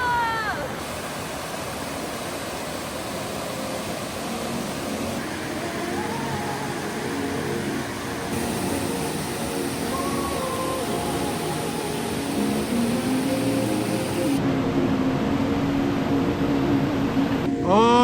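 Horsetail Falls near Lake Tahoe, a large waterfall, rushes as a steady broadband roar heard from a hiking trail, continuous and fairly loud, with faint brief tones over it.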